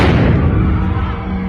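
Stun grenades fired by Israeli police at the Al-Aqsa Mosque compound during a confrontation with worshippers, heard as a loud, continuous rumble of booming blasts and crowd noise with no pauses.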